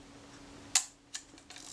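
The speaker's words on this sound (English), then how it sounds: "It fired the shutter." A single sharp mechanical click of a Kodak Retina IIIC camera shutter, partly disassembled, in a quiet room, followed by a couple of softer clicks.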